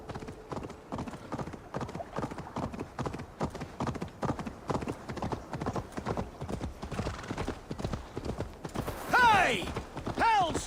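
Rapid clip-clop of horse hooves galloping steadily through Assassin's Creed Valhalla, close and continuous, with a sharp whinny breaking in near the end.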